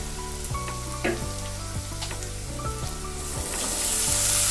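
Boiled banana flower is tipped into a pan of chickpeas frying in oil for a coconut mocha ghonto. It sets off a loud, crackling sizzle with scattered pops and stirring scrapes that swells toward the end.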